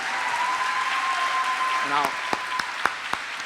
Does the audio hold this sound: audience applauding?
yes